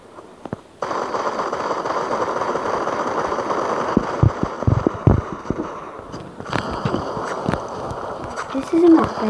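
Gunfire in the mobile shooter game Modern Combat 5: Blackout, a series of sharp shots and short bursts over constant game noise, with a player talking over them.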